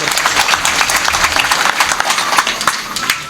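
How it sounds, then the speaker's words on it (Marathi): An audience at a devotional naam yagna gathering claps loudly and continuously, a dense close burst of applause for a few seconds. "एकदा महाराजांकरता सर्वांनी जोरात टाळ्या वाजवायच्या."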